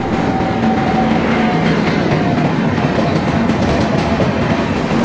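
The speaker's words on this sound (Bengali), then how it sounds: "ট্রেন ঢুকে গেছে।" A Brahmaputra Mail passenger train pulls into a station platform, its continuous heavy rumble and rolling wheel clatter steady and close for the whole stretch.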